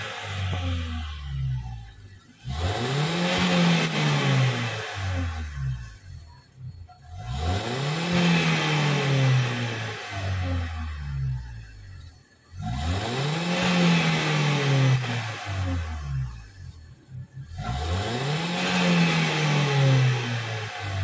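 A Wuling Confero with Blackcore Ultimate tuning revs repeatedly, four long climbing surges of engine roar, each building up and dropping back to idle, loud and close with no talking.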